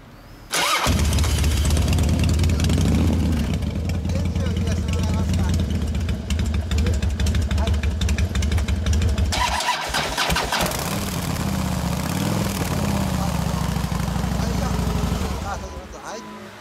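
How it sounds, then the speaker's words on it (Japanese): A motorcycle engine cranks and fires up after a brief moment, then settles into a steady, loud idle close by, with voices talking over it. "エンジン音聞かせてもらえますか"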